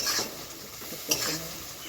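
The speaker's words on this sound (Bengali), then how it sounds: "আলুগুলো দিয়ে দিচ্ছি, আলুগুলো কষিয়ে নেব ভালো করে" Potato pieces with Kashmiri chilli sauté in hot oil in a pan for a vegetarian potol posto, a steady sizzle broken by two brief scraping stirs, close and fairly quiet.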